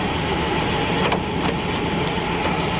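1998 Chevy C1500 Silverado pickup engine running at a steady, close idle-like drone, with a few faint clicks over the top.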